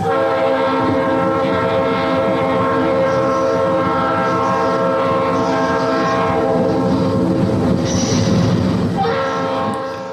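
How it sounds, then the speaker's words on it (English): A train in a TV advertisement sounds its horn in a loud, sustained, layered blast that holds for nearly the whole stretch, with rumbling rail noise beneath and a faint voice in the background. "It's just a train ride."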